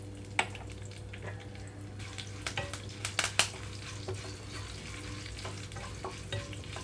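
Mustard-style tempering spices with asafoetida sizzle in hot oil with a soft steady crackle, punctuated by sharp clinks and scrapes of a spoon stirring the pan.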